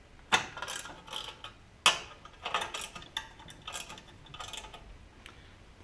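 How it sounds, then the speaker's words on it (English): Ratcheting wrench working on the gas tank bracket bolts of an REO engine under restoration, a series of close, crisp clicking bursts in uneven spurts with short pauses between, no voices. "Looks like I need to loosen the gas tank on the bracket just to give it a little bit of movement on it."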